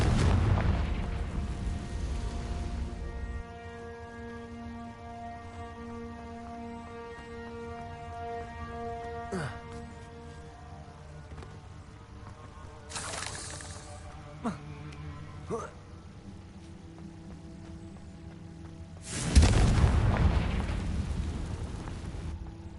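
Fiery explosion spells from a Harry Potter video game burst with heavy booms, one at the start, a short one partway through and a big blast near the end, over a steady game soundtrack with a few sharp pops.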